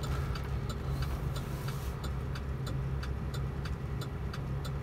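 A 2011 GMC Sierra 1500 Z71 4x4 pickup with a 5.3 V8 and 6-speed automatic cruises steadily, a low, even engine and road drone filling the cabin, with faint regular ticking over it and no voices.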